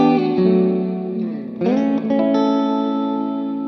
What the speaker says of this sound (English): I love this reverb.